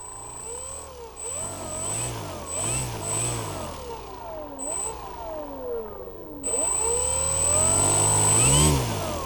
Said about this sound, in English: I give this motor speed and it spins